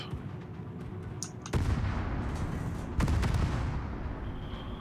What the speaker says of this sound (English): And so the second salvo completely missed.